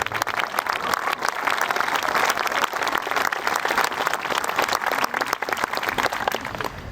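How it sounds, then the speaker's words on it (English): Applause from a high school graduation audience for the graduating class, a steady dense wash of many hands clapping with no voices over it. "Give yourselves a round of applause."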